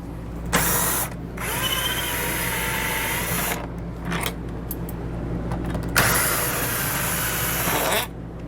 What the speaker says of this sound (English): And then we're going to remove those using an 8mm socket.